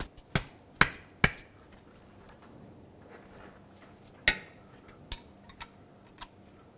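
A wrench or ratchet breaks loose the 15 mm oil drain plug on a 2010-2016 Cadillac SRX with the 3.6L V6, giving several sharp, isolated metallic clicks and knocks spaced irregularly over quiet background, with no talking.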